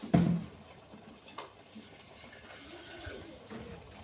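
Water poured into a cooking pot for a Sunday dinner dish, a quiet splash at the start and then a soft, faint trickle continuing over low room noise.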